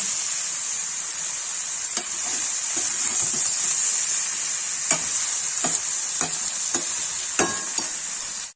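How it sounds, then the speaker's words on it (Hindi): Cauliflower and potatoes frying in a pan with ground onion, red chili and turmeric, making a loud, steady close hiss broken by occasional scraping and tapping stirs. "गोभी आलू फ्राई हो रहा है।"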